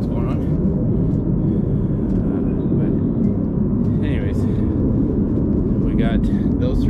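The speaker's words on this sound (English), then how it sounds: "There's a very loud jet overhead." A loud, steady low roar of a jet passing overhead fills the whole stretch, a broad rumble that holds level throughout, with faint higher clatter and movement from outdoor work on a big cleanup project.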